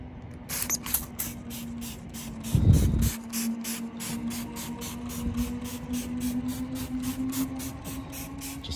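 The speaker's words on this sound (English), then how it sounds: "And I'm just going to spray that" Rapid bursts of a trigger spray bottle misting Corosol fallout remover onto the paintwork of a Ford Fiesta ST, close and crisp, with short pulsing hisses repeating quickly through the clip.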